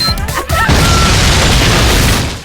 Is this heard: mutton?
no